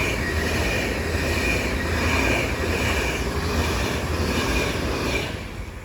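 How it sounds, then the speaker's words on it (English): Avanti West Coast Edinburgh to London Euston express departing, a loud steady rumble of wheels on rail with faint squealing, continuous and close with no talk. "As now heading off is the heavily delayed 1239, a Van to West Coast service from Edinburgh to London Euston"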